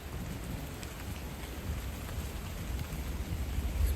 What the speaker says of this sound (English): It'd be just the rain in a way.